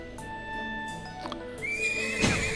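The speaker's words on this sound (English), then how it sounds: "Look at the horse." A horse neighs in the video game Trails of Cold Steel, a loud whinny near the end over soft background game music and ambience.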